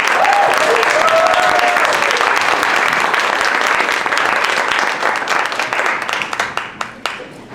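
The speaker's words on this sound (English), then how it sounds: "please give them a warm round of applause" A large conference audience gives warm, sustained applause welcoming a panel onstage, dense and loud throughout before thinning into scattered final claps.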